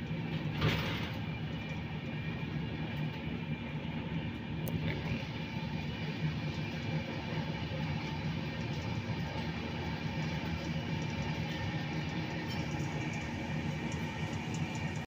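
A continuous loud rumble and rattle of the Rajdhani Express running at speed through Tundla station, heard from on board, steady throughout with a brief clank near the start.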